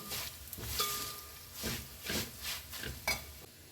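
Chilli powder heating in a pan, with soft intermittent stirring and scraping strokes over a faint sizzle, close and fairly quiet.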